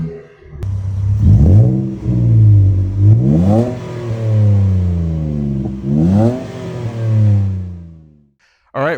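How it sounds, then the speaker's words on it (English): A new pickup truck engine revs hard several times, its throaty aftermarket MBRP exhaust with larger-diameter piping and freer-flowing mufflers rising and falling in pitch, loud and close, then cuts off abruptly. "the larger diameter piping, the little bit freer flowing mufflers definitely give it some sound"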